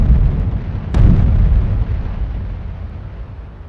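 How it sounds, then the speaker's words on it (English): A heavy, loud explosion from a FAB-500 aerial bomb airstrike rumbles throughout, with a sharp crack about a second in and a deep roar that slowly fades; no talking. "Airstrikes using FAB-500 bombs launched by the Phobos group"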